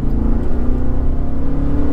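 A 2023 Toyota Highlander Hybrid with a four-cylinder engine accelerates hard from a standstill, a loud, steady engine drone and whir that holds strong from start to finish, close to the microphone.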